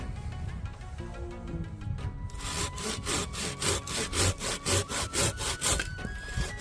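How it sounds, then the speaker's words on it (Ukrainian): Two Samurai hand saws, models GCW-300-LMH and C-330-LH, cut through a piece of wood at once, starting with light rasping and then settling into a loud, steady rhythm of about a dozen back-and-forth strokes. "зараз я спробую різати одразу обома пилками, щоб побачити, яка швидше переріже"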